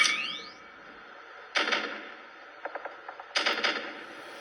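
Sniper rifle shots crack in a mobile video game played on a Moto G30 phone, two sharp loud reports with reverberant tails, with a faint burst of quieter clicking mechanical sounds between them.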